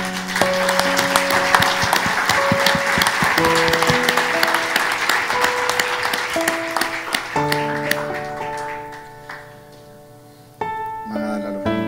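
Congregation clapping together at a Good Friday church service, steady dense applause over sustained organ or keyboard chords and music, tapering off near the end before music resumes.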